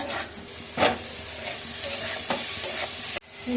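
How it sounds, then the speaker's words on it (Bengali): Masala for prawn curry sautés and sizzles loudly in a pan, with several scraping stirring strokes over a continuous hiss, close by, ending with an abrupt cut. "ভালোভাবে কষিয়ে নেবে অল্প একটু জল দিয়ে নেবে"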